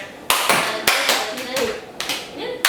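Hands slap on thighs in a clapping game: a short series of sharp, close pats in an uneven rhythm.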